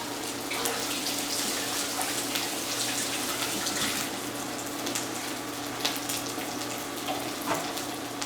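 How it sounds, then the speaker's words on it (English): Water runs steadily from a tap in a constant hiss, with small splashes and shifts as hands move under the stream. "I'm gonna give my hand a little quick washy wash."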